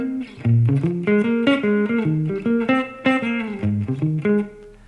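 Guitar plays a simple minor pentatonic solo, a run of plucked single notes rising and falling in a quick, steady phrase, close and clear with no talking.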